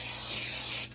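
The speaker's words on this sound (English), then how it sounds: "I'm gonna spray some more" Cooking spray hisses steadily onto a hot pan for nearly a second as an egg dish is being prepared, then cuts off abruptly, leaving faint kitchen background.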